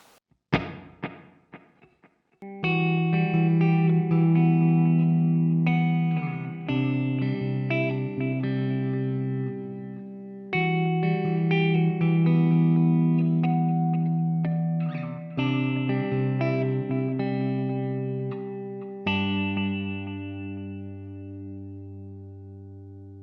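An electric guitar through an ML Sound Lab Marshall amp sim plays sustained chords and notes drenched in delay and reverb, the repeats trailing into a spacious wash after a brief quiet start.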